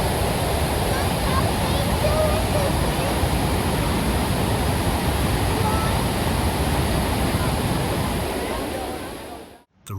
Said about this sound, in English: The sheer volume of water, especially during the summer months when snowmelt increases the flow, creates a deafening roar that can be heard from miles away.